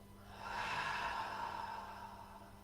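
A chair yoga instructor lets out one long, soft exhale, a breathy rush that swells and fades over about two seconds in a quiet room.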